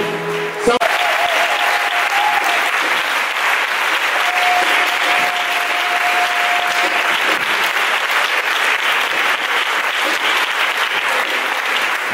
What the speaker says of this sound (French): Si tu as été béni par ce message, acclame très fort.